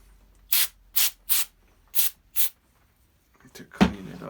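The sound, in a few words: spraying brake cleaner on RC car carburetor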